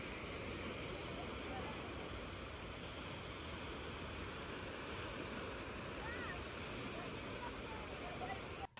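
Sea waves wash continuously onto the shore at Alicante, Spain, a steady, even roar of surf blended with wind noise, heard from close by with no distinct breaks.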